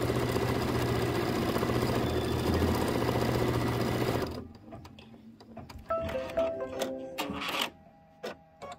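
An embroidery machine stitches a pumpkin quilting design with a steady, fast mechanical whir for several seconds, then stops abruptly, leaving scattered clicks, taps and handling noises.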